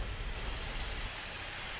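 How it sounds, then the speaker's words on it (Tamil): Heavy summer rain pours at night around Sathyamangalam in Tamil Nadu's Erode district, a dense, steady hiss with a deep low rumble that stays even and unbroken throughout, with no voices. "இரவு லேசான சாரலுடன் துவங்கி பின்னர் கனமழை கொட்டியது"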